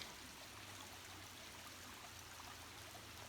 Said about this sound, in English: And here we have this amazing creek.